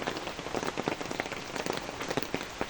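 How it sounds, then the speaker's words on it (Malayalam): Heavy rain pours steadily onto a surface, close by, in a dense patter with frequent sharper drop impacts. It sounds wet and continuous, with no voices. "നല്ല മഴയൊക്കെ പെയ്യുന്നുണ്ട്"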